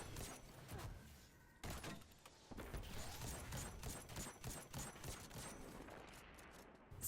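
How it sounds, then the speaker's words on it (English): A grenade launcher in Destiny 2 is fired again and again during a Grandmaster Nightfall on The Inverted Spire, each shot a sharp, faint thump in a quick run. The launches sit over a low, steady wash of combat noise. "So now I'm just spamming the grenade launcher"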